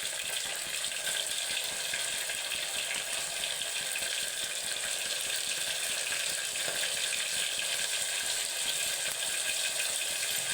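Ginger garlic paste sizzles in a hot pan, a steady, even hiss of frying that continues unbroken at moderate level throughout, with no voices.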